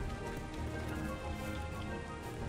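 Steady rain starting in the video game Abalon, a dense continuous patter of drops on a surface filling the whole stretch at an even level, with no voices.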